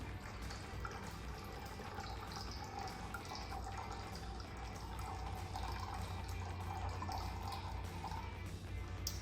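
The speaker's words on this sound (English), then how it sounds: "we're going to already fill up the planter with water to just below the neckline" Water steadily pours into a soil-free air planter, a continuous soft trickling and splashing wash that holds even throughout, close and moderately quiet, with no voices.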